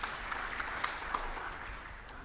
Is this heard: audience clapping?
yes